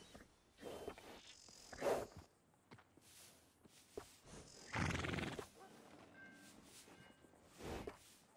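A horse neighs and whinnies a few times at moderate distance in the video game Red Dead Redemption 2, with faint hoof clops, footsteps and a buzzing insect-like ambience in between.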